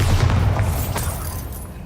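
A Bombarda explosion spell in the video game Hogwarts Legacy: a deep, heavy boom with rumbling low end that lingers and slowly decays, standing alone without talk.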